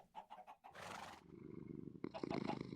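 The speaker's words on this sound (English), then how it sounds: "Ooh, loud purr. Very loud purr." A cat purrs loudly and steadily up close, a low rumbling drone following a few soft sounds at the start.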